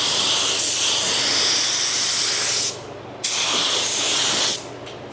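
An InoKraft Drizzle Pro sprayer lays down a coat in two continuous bursts of loud, broadband hissing spray, about two and a half seconds then just over a second, with a brief quiet gap between them and no voices.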